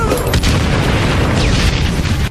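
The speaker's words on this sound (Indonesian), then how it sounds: "masih digempur tanpa henti oleh artileri Jepang dari" Relentless Japanese artillery bombardment from the mountains in a World War II Pacific battle, a dense continuous rumble of booming blasts that stays loud throughout, with no voices.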